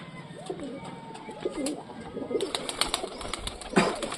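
Punjabi pigeons coo in repeated rolling phrases close by, followed by a busier stretch of clicks, rustling and faint wing or handling noise.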